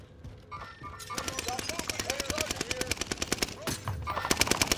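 Rapid machine gun fire in a video game, bursts of evenly spaced, sharp cracks rattling over several seconds at moderate distance, with players talking around the shooting.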